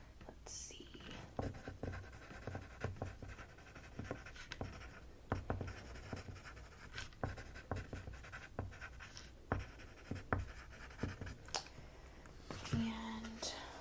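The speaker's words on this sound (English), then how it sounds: "let me just write this down" A pen scratches across paper in close, quiet strokes with short pauses, while a soft whispering voice is heard in the background during a home design planning session.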